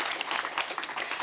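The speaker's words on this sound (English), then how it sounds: "I think that deserves a big round of applause" A conference audience gives a steady, dense round of applause, many hands clapping together at an even level for the whole moment, with no voices standing out.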